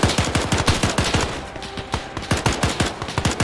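Rapid covering gunfire in an Arma 3 Civil War mod battle, loud, close automatic shots in a steady rhythmic stream with a brief pause partway through.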